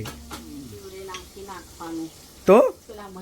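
Tomato puree hits frying capsicum in a pan, sending a sudden loud burst of sizzle partway through, while a voice talks over the low frying beforehand and after.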